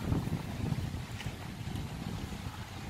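Steady breezy wind buffets the microphone outdoors on a pleasant day in Tenerife, giving a continuous low rumble with no clear gusts or pauses.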